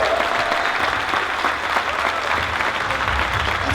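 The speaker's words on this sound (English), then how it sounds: "Give him a round of applause." Loud, dense applause from a packed room, sustained clapping that holds steady throughout with a faint voice or two buried beneath it.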